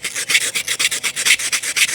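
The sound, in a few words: sanding a part with coarse sandpaper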